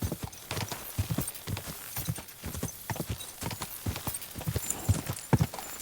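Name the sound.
horse hooves galloping in race, Kingdom Come Deliverance 2 video game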